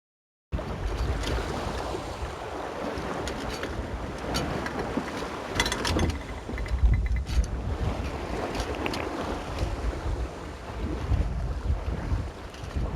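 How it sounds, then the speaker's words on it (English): Wind of roughly 10 to 15 knots blows across a sailboat's deck on the open North Atlantic ahead of a gale, a constant loud rushing roar with buffeting gusts and water wash, no voices. "you'll see the wind is blowing probably 10 to 15 knots right now"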